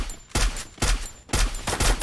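Gunfire in the Garena Free Fire Max video game comes in three loud, close, rapid bursts separated by short gaps.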